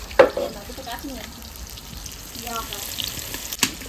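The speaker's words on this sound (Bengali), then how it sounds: "মৌ কুমড়ো ভাজা করছে" Soft sizzle of pumpkin frying in oil in a pan, with a few scraping clinks and faint voices in the background.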